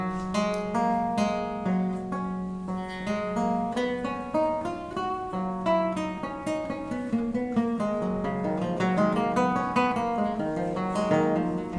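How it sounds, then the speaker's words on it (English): Slow scale plucked on a theorbo, each note ringing on while other strings sustain and blend underneath, a steady unhurried line of close, warm plucked tones with no voices. "All the other strings are ringing on as you play that scale."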